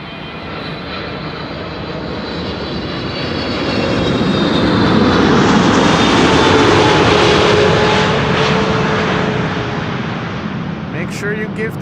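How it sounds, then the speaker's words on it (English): An Emirates SkyCargo Boeing 777 freighter arrives at Amsterdam Schiphol, its engines a broad, loud roar that swells toward the middle and then eases off as the jet passes close by. "Emirates Sky Cargo Flight 9993 arriving from Dubai World Center. 777 freighter."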